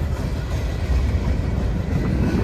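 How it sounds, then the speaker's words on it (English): Steady, heavy low rumble of a train rolling past in the background near Lytton, BC, continuous and fairly loud throughout with no voices. "Got trains rolling by in the background."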